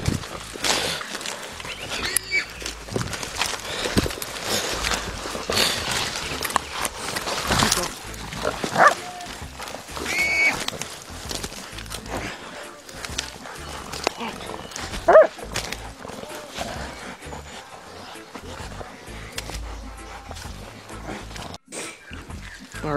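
Hunting dogs bay and bark at a bailed wild pig in the New Zealand bush, frantic overlapping animal noise with rustling footsteps while a hunter speaks close by.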